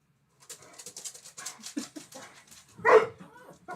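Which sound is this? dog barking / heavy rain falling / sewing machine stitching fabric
dog barking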